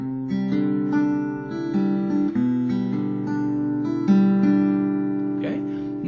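Acoustic guitar playing the opening two chords of a song, fingerpicked notes ringing warmly and close in a gentle, sustained pattern with no talking.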